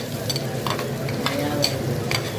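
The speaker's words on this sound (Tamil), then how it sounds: "இந்த வெங்காயத்தை அப்படியே போட்டு ஒரு தொழவு தொழவி" Onions being stirred and fried in a pan for a Tamil sundakkai vathal kuzhambu, a steady close sizzle broken by scraping stirs and small clicks of the spoon, no talking.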